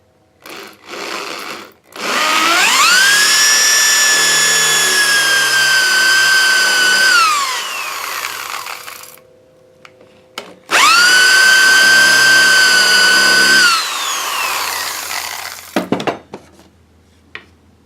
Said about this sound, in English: This is melamine that I'm drilling